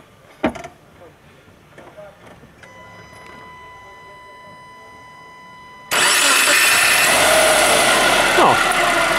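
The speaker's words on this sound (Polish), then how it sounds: "niech on sobie popracuje na obrotach na jałowych, bez przygazówek" A 2008 Subaru Forester 2.0 engine cranks and catches, then settles into a loud, steady idle with a constant broadband rumble after faint clicks and a tone.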